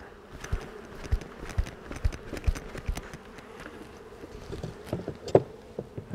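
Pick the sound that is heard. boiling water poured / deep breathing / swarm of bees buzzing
swarm of bees buzzing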